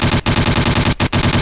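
Calico gun firing in the video game Trespasser, a loud rapid automatic stream of shots broken by two brief pauses, close and dense with no talk.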